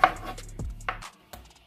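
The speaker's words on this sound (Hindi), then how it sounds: "इसी तरह से ये सारे टमाटर हम काट लेंगे" A knife chops fresh tomatoes on a board in a home kitchen, a few sparse, soft thuds with short pauses between them, quiet and close.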